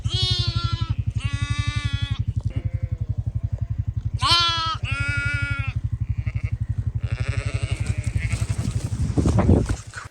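Sheep and lambs on a farm bleat loudly and close by in several long, wavering calls over a steady low engine rumble. A burst of rustling noise comes near the end.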